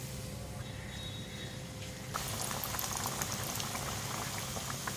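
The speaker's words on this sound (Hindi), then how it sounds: "ये भी अच्छे से गोल्डन फ्राई हो जाएंगे तो फिर मैं इसको निकाल लूँगी।" Aloo khasta samosas deep-fry in hot oil with a steady, bubbling sizzle that grows noticeably louder and denser partway through. No one speaks.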